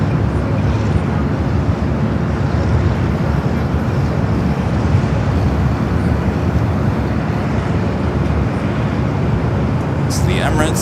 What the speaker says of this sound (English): Next arrival is Delta Flight 2119 coming up from Minneapolis, an A321neo